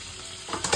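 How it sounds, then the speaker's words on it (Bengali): Paneer fries in a pan with a continuous close sizzle, and a few louder stirring scrapes come near the end of the brief burst. "এখানে পনির ভাজা হয়ে গেছে"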